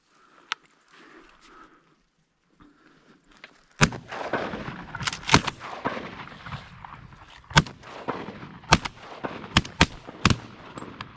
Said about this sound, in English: Go ahead and shoot over top of him, Tyler.